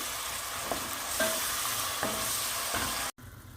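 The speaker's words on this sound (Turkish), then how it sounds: "Salçasını ben 1-2 dakika kavuruyorum" Tomato paste frying in oil, a continuous hissing sizzle with a few soft stirring knocks, ending in a short cut and a quieter patch.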